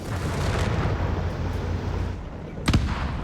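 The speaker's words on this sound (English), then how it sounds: "Mines exploding there." Mines detonate in Company of Heroes 3 amid a dense, continuous rumble of battle, with one sharper, louder blast standing out near the end.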